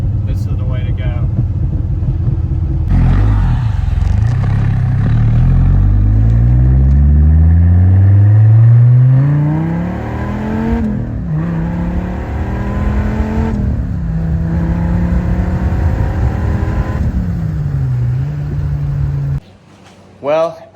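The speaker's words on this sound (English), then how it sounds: "The car is like super duper loud." Loud modified car engine revving repeatedly, pitch sweeping up and dropping back across several sustained pulls, close and dominant, ending in a sudden cutoff with a short burst after.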